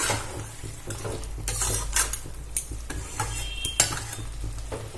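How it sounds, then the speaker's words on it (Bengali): Spice-marinated chicken is stir-fried in a pan, a spatula scraping and clattering repeatedly against the metal over a continuous low sizzle, close and fairly loud, with no talking. "এই মশলাগুলো এবার খুব ভালো করে কষিয়ে নেব"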